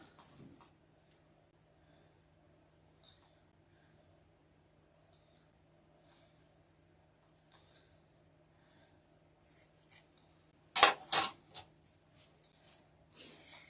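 Scissors snip through a Dollar Tree scarf being cut in half, a few quick bursts of crisp cutting near the end after a long, nearly silent stretch, close but soft.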